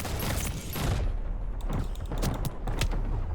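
Shotgun and pistol fire in the video game Splitgate 2 comes as a dense burst of shots at first, then a quicker run of sharp, separate cracks with mechanical clatter between them.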